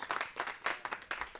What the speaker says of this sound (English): Yes, that is deserving of applause.